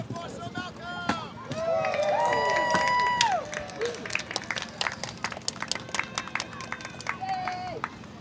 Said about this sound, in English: Cheer for Sir Malcolm!